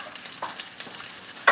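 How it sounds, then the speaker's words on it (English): Wonton or spring roll sheets fry in hot oil for chicken patty spring rolls, giving a soft, steady sizzle with scattered light crackles and a sharper burst of spattering at the end. "once I'm done frying the wonton sheets or the spring roll sheet"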